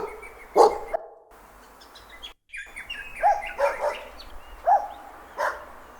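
Game sound asset of a dog barking, several sharp barks spaced across the moment, layered over chirping bird ambience with brief silent gaps between loops.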